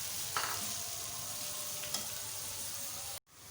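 Onions frying in a pan for black pepper chicken, a steady close sizzle with a couple of brief stirring scrapes, cutting off abruptly near the end before resuming.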